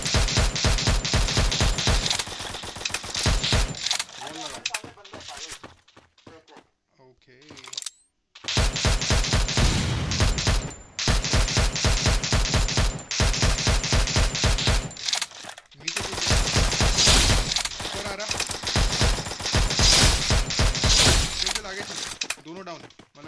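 Rapid gunfire in a shooting game, with loud dense bursts that are nearly continuous. The firing breaks off briefly a couple of times and then resumes in long sustained volleys, and voices shout over it.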